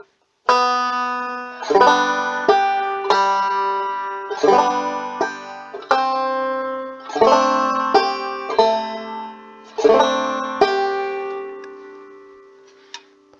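A banjo is plucked slowly, bright ringing notes and strummed chords in unhurried phrases, each left to decay before the next, played close and alone.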